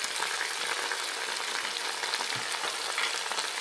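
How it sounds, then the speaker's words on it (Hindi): Ginger, garlic and green chilies frying in a pan for shahi moti pulao, a steady dense sizzle throughout with no talk. "हमारे अदरक लहसुन और हरी मिर्चों भी मैंने ड्राई कर लिया"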